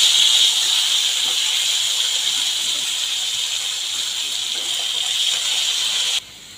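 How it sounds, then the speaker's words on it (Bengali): Potatoes frying in a pan with ground cumin paste, lid lifted, giving a loud steady sizzle and hiss that runs continuously before cutting off abruptly near the end. "ঢাকনা উঠিয়ে এখন আলুগুলো আরেকটু ভালো করে ভেজে নিচ্ছি"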